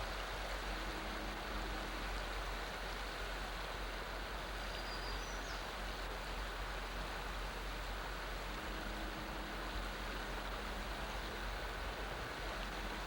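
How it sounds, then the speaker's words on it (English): A mountain creek runs straight across a road, giving a steady, even rush of flowing water that holds constant throughout with no voices. "This particular creek comes right down across the road here"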